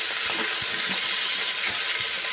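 Finely chopped onions fry in a pan for a bean stir-fry. A loud, steady sizzle and hiss fills the whole stretch without a break, with faint crackles pricking through.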